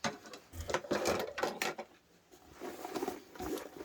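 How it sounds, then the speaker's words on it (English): A sewing machine stitches an anti-theft backpack in short, uneven bursts of rapid mechanical clatter, pausing between runs; close and fairly quiet. "now we just need to sew this on."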